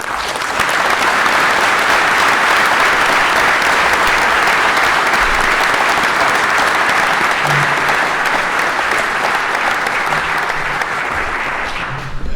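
A large audience at a business school executive-of-the-year event applauds steadily and loudly for the full stretch, the dense clapping holding even throughout with no voices above it.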